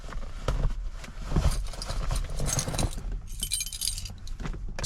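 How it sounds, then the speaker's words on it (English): Car keys for a C4 Corvette jingle and rattle continuously for about five seconds, close and fairly loud, as they are picked up before starting the car. "just grab our keys and start her up"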